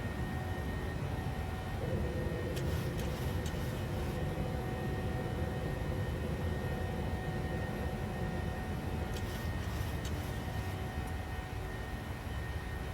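A simulated airliner's engines hum as a steady, even drone while the aircraft climbs after takeoff in a flight simulator game, with faint clicks and switch sounds now and then.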